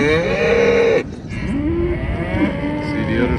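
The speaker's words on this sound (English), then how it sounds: "Cows giving out." Dairy cows in a collecting yard give loud, drawn-out moos close by, one long low call followed by several overlapping lowing calls from the herd.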